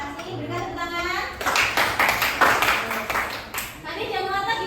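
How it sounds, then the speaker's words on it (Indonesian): A classroom of students breaks into a burst of lively clapping for a classmate, lasting a couple of seconds, with children's and a teacher's voices talking before and after it. "Berikan tepuk tangan."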